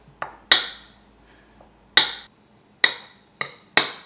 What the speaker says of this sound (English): use this little dough utensil here to kind of crush it up into further small pieces